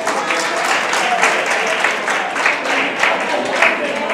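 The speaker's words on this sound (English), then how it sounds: "A round of applause for Phyllis, ladies and gentlemen." Steady applause from an audience at a community history presentation, a dense patter of many hands clapping continuously and fairly loudly throughout.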